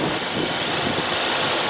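A 2015 Mercedes-Benz C300 with a 2-liter 4-cylinder turbo engine idles, a steady, loud, close hum with fine mechanical vibration and no talk.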